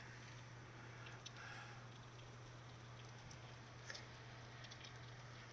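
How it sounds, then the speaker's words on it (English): Summer rain falls steadily in a continuous soft patter, with a few faint drips and ticks standing out, under a low steady hum and no talk. "Nothing better than rain in the summertime."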